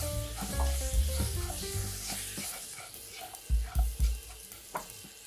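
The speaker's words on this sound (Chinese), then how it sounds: "开中火翻炒，翻炒到调味料将肉均匀的包裹起来" Pork belly seasoned with salt, pepper, sugar and oyster sauce is stir-fried in a pan over medium heat for a Thai spicy dish: a steady, close sizzle with scraping spatula strokes and several heavier knocks near the end, no talking.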